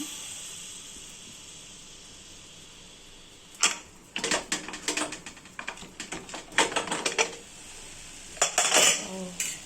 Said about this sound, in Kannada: ಆಫ್ ಮಾಡಿ ಲಿಡ್ ಓಪನ್ ಮಾಡೋಣ